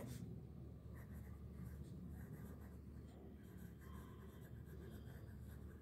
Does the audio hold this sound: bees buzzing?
no